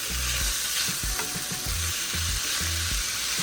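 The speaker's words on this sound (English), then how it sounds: "And then we're just gonna mix this up nice and slow." Ackee sizzles loudly in a frying pan while being stirred slowly, with regular low scraping strokes of the spoon repeating about every half second over continuous frying hiss.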